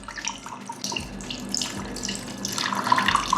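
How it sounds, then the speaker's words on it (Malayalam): Plain water is poured into a glass while a wheat-water drink is prepared, giving a continuous close-up splashing pour that grows slightly louder and brighter toward the end. "ഇതിൽ പച്ചവെള്ളം ഒഴിക്കുന്നു."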